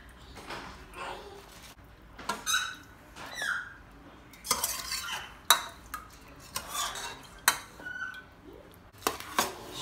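Combined ingredients are stirred in a pot in a home kitchen, with scattered scraping and clinking strokes of a utensil against the pot, close and uneven with quiet gaps between strokes.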